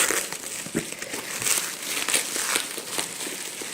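Plastic parcel packaging crinkles and rustles continuously as it is handled and opened, close and fairly loud, with no talking.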